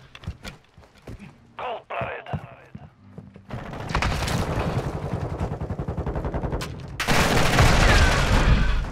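Gunfire in the Modern Warfare 2 beta video game rattles in rapid bursts, building from scattered shots to sustained heavy automatic fire and explosions, loud and close.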